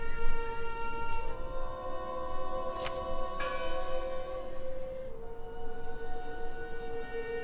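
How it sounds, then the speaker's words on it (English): Church bell tolling inside the video game Draugen, a steady resonant ringing with a sustained hum that carries through the whole stretch, moderately loud over a low ambient drone. "Listen! The bell! They're still in there!"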